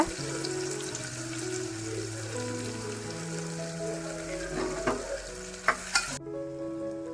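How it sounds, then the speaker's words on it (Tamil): Chopped onions fry and crackle in oil inside a pressure cooker for mutton curry, with a continuous sizzle, occasional stirring clatter and faint tonal music underneath before an abrupt cutoff. "நம்ம கட் பண்ணி வச்சுருக்க வெங்காயத்தை நல்லா கோல்டன் ப்ரௌன் கலருக்கு வர வரைக்கும் வதக்கிக்கோங்க"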